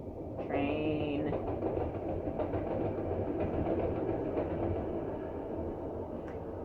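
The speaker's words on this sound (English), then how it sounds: "Train." A train rolls past up close, a steady loud rumble with rail clatter and a brief high squeal near the start, holding at an even level throughout.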